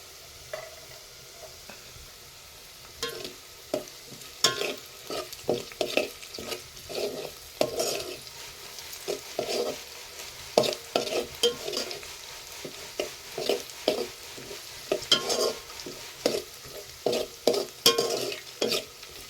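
Curry leaves fry and are stirred in a pan, with quiet sizzling under a run of sharp scraping and clacking strokes that grow busier and louder toward the end.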